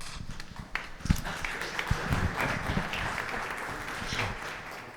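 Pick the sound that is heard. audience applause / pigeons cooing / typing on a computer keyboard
audience applause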